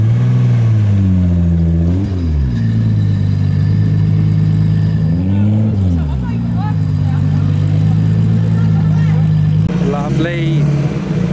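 A Mark 4 Toyota Supra drives past at a JDM car meet, its engine note rising and falling through throttle blips and gear changes, loud and close beneath steady talk from a commentator.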